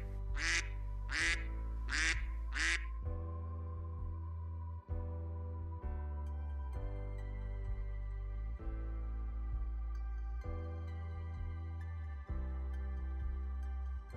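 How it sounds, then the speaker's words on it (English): Four quick, close duck quacks in a row, then cheerful music plays on its own. "Duck."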